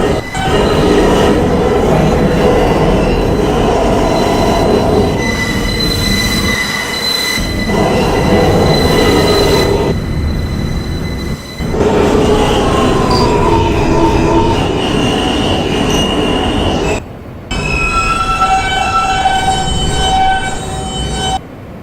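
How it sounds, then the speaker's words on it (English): A New York subway E train, Queens-bound, pulls in with loud, sustained metal wheel squeal over a steady rumble, with brief dips and shifting screech tones throughout. "This is a Queens-bound E-train"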